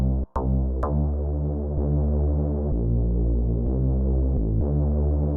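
Layered Lekompo bass sounds built in FL Studio Mobile throb together as deep, sustained synth notes, changing pitch roughly every second in a steady loud pulse, with a couple of sharp clicks near the start.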